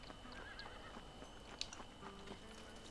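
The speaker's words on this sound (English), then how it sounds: "Oh, I have the war horse." A war horse in the Red Dead Redemption video game gives a short whinny with faint hoof clip-clops, set against a steady background bed of game ambience and music.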